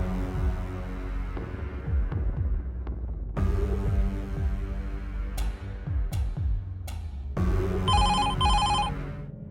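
A landline telephone bell rings in repeated loud bursts over a steady background hum, with a brighter electronic trill joining near the end.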